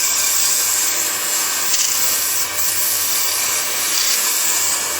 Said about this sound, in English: we can do a little bit of sanding on that